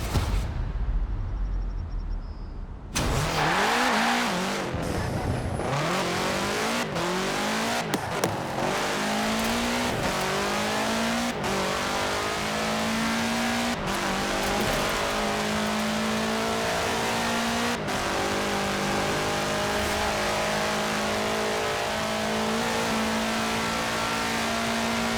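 A 1966 Volkswagen Beetle fitted with a 2.5-liter turbocharged flat-four engine in Forza Horizon 4, starting up then revving hard and accelerating through rising gears, loud and close with a sustained engine drone and brief gear-change dips.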